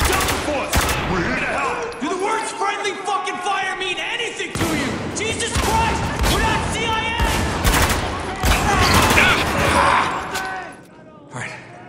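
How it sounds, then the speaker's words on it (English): Heavy, sustained gunfire from soldiers in a Spec Ops: The Line cutscene, with dense overlapping bursts and shots running nearly throughout, loud and close, mixed with shouting voices. "Now open fire!"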